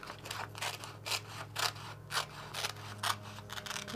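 Scissors snip repeatedly through paper while cutting out the wings of a paper Flappy Bird craft, a steady series of crisp, close cuts over a constant low hum.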